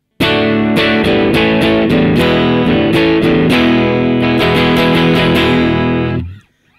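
Distorted electric guitar played through a Line 6 Pod Farm 2 amp simulator with a centre-miked vintage 12-inch speaker cone, loud chugging chords and picked notes for about six seconds before cutting off to silence.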